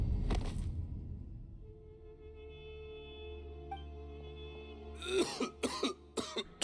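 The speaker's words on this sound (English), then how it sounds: "Why is he coughing so much?" A character in the video game Genshin Impact coughs in a rough, rapid cluster of four or five hacking coughs near the end, after soft sustained background music tones.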